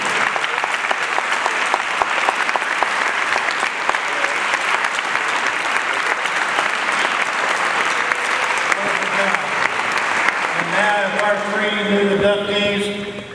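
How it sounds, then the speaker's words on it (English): Sustained, loud applause from a large audience at a Hall of Fame induction ceremony as a team stands, dense continuous clapping that carries on for many seconds before a voice begins speaking over its tail. "let's have them all stand, that team, and give them a round of applause"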